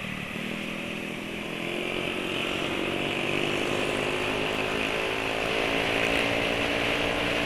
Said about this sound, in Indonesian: Lumayan kencang nih motor sebelah.